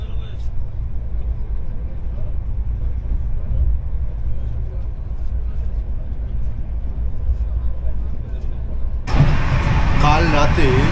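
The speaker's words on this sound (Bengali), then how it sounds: "রাত্রির 1:21 মিনিটে আমাদের ট্রেন এখন দীনদয়াল উপাধ্যায় স্টেশন থেকে বেরোচ্ছে।" The 12313 Sealdah Rajdhani pulls out of Pandit Deen Dayal Upadhyaya station at night with a steady low rumble. Near the end the sound turns into a louder, brighter rush of noise.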